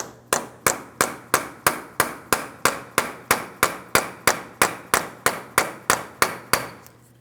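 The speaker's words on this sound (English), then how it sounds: "continue on with a hammer and punch directly in the center of the front axle" A hammer drives a punch into the center of a GMC Sierra 2500 HD front axle, loosening it from the wheel bearing hub after penetrant is applied: about twenty sharp metallic blows in a steady, even rhythm, close and loud.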